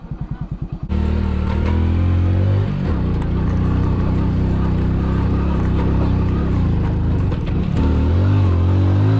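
A street motorcycle attempts an off-road stretch, its engine chugging briefly before surging into loud, sustained revving up close with slight dips in pitch.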